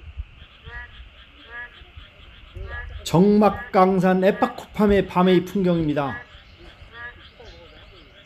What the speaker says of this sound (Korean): 개구리, 맹꽁이가 환상적인 조화를 이루어 오케스트라를 공연하고 있습니다.